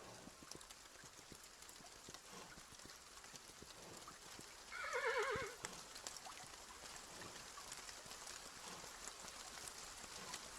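A horse in the video game Kingdom Two Crowns gives a short whinny midway, with faint hoof clops and a quiet ambient bed throughout, no talking.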